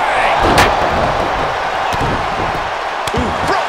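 A neckbreaker slam lands in the wrestling game WWE 2K23, a loud, heavy thud standing out against constant crowd noise, followed by a couple of smaller impacts later.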